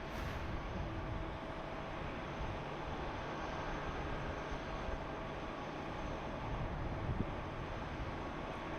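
A Fiji Airways airliner at Sydney Airport produces a faint, steady broadband roar and rumble from a distance, holding at a low level with no talk over it.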